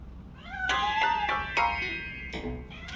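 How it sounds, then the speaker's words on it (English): A cat in the video game Robocop: Rogue City meows several times in quick succession, drawn-out, whiny cries that rise and fall, close and fairly loud, with no voices. "That cat must be hiding inside."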